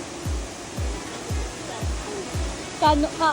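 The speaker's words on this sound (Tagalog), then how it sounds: "Can you hear the falls?" Can-umantad Falls in Bohol, Philippines roars as a steady broadband rush of falling water, with a few low thumps and a brief high chirp near the end.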